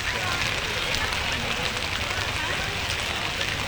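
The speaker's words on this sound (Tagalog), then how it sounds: "Lumalakas ang ulan gabi." Heavy night rain pours in a dense, steady hiss with pattering on surfaces, continuous and fairly loud, with people talking beneath it, in Santa Maria, Bulacan.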